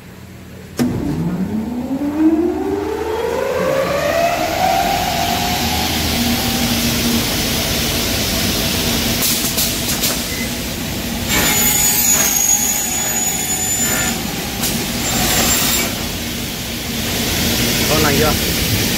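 Power saw cutting an aluminium door profile for a single-leaf hanging sliding door, loud and close, starting sharply then whining steadily with a rising spin-up tone and harsher metallic grinding partway through.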